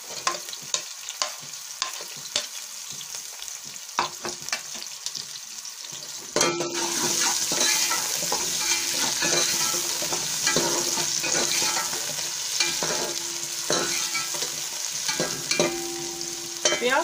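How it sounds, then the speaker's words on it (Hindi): Onions dropped into hot cooking oil for a spicy black masoor dal, a loud burst of frying that starts partway through and keeps sizzling, with scraping stirs and occasional clinks of utensil against the pan. "अब हमारा कुकिंग ऑयल गर्म हो चुका है। इसमें प्याज शामिल करेंगे।"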